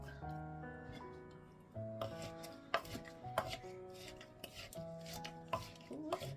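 A knife chops dried chilies on a board while cooking, rapid irregular thuds near and clear, layered over sustained musical tones playing in the background.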